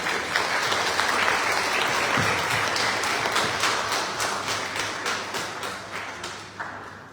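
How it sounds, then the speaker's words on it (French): Sustained applause from an audience at a gala supporting a youth robotics team, steady dense clapping that slowly fades toward the end. "Des applaudissements."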